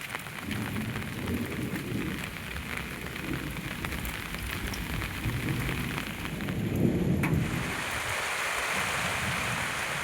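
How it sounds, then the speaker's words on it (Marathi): Heavy late-monsoon rain in the Konkan pours steadily, a thick continuous hiss with low rumbling swells, like a distant storm underneath. "भरपूर पाऊस पडला"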